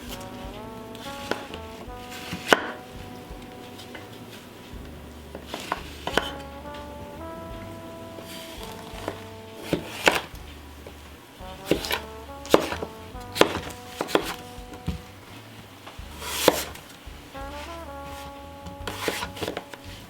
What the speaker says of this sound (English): right here today I'm just going to cut up a few vegetables and just show you that